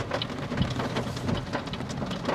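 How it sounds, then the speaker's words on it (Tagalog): Heavy rain drums steadily on a moving car, heard from inside the cabin on a road in the Philippines, a dense, continuous patter with no one speaking. "Grabe, lakas ng ulan dito."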